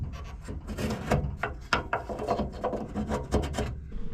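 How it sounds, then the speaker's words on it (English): A marking line drawn on the bare metal of a Mk2 Ford Escort dashboard gives close, scratchy back-and-forth strokes that rasp in quick bursts, with no voices. "I just need to draw a little line so I know where it's going."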